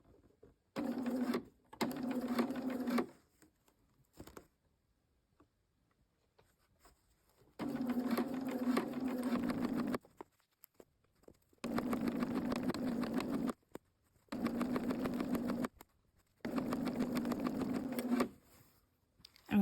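A sewing machine topstitches trousers in the seam groove, 2 mm inside, with a lengthened stitch. It runs in several loud, steady bursts of a few seconds each, separated by short pauses, with no talking.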